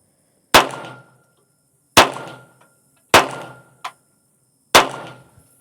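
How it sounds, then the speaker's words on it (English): Four sharp .22LR handgun shots fired at a target on an outdoor range, each a sudden loud crack with a brief ringing tail, spaced more than a second apart, plus one smaller metallic tick between the third and fourth. "That was 5 shots."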